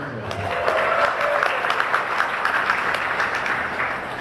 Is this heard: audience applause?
yes